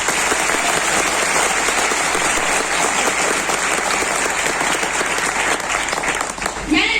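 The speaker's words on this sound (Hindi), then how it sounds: "एक बार अपने अप्लायंस के लिए जोरदार ताली।" A large crowd claps loudly and steadily, dense applause sustained throughout, with a brief lift near the end.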